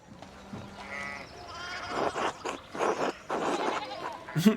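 Sheep bleat in the medieval adventure game Pentiment, a few wavering calls coming through alongside game music and other ambient sounds, with louder broadband bursts near the end.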